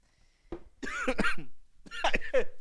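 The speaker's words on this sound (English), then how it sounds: "so you just cough all over the shirt" Someone coughs several times close by, two harsh clusters of rough, throaty coughs separated by a brief pause.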